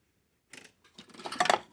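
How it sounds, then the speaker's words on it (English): A small plastic piece is cut to make a deck wall for a Titanic wreck model diorama, heard as a few close, crisp snips and crunches that grow louder over about a second. "I'll go ahead and cut that"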